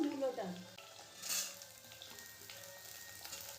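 Oil sizzling as potatoes fry in a pan, with a brief stir near the start, fairly quiet and steady, no talking.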